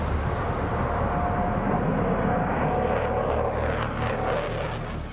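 Armed fighter jets take off at an airfield, a loud, steady roaring engine rush that holds for several seconds and eases slightly at the end, with no talking.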